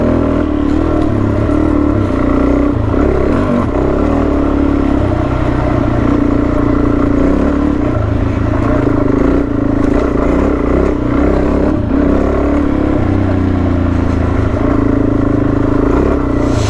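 Motorcycles, including a Yamaha T7, ride a muddy dirt track. A loud, steady engine drone varies in pitch as they ride, with rattling and clatter over rough ground and no speech.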